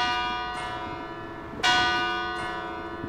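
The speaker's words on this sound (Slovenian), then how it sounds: "Ko zvonovi o polnoči odbijajo 28-krat" Church bells in Vodice ring at midnight, three loud strokes spaced about a second apart, each leaving a long shimmering decay.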